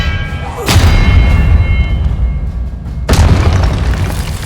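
A spell impact in the Hogwarts Legacy video game: two heavy booming blasts, one near the start and one past midway, each a sharp loud burst trailing into a rumbling low wash.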